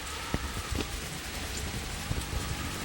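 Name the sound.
rain falling in Metal Gear Solid 2 video game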